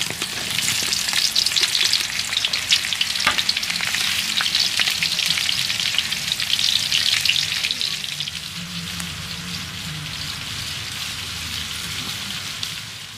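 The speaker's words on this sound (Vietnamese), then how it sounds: "bây giờ mình cho khô vô mình chiên" Dried fish with garlic fries in a pan, giving a loud, dense, continuous sizzle with crackling pops that eases slightly toward the end.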